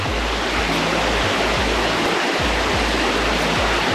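Steady rushing of clear water flowing at Chinchoti waterfall, a dense, loud, continuous wash of splashing without pause or voices.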